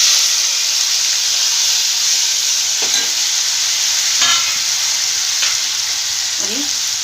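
Steady loud sizzle of cumin, chopped tomato, curry leaves and green chili frying in a pan for puri bhaji, with a few scraping stirs breaking through the constant hiss.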